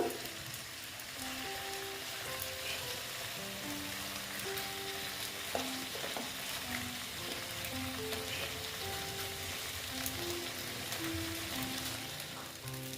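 Breakfast pieces frying in a pan give a steady, close sizzle that runs the whole time, with a melodic tune playing softly underneath.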